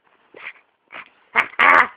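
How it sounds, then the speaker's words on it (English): A puppy lets out four short whimpers and whines, the first two soft and spaced apart and the last two louder and closer together, alone and close by. "Puppy, no."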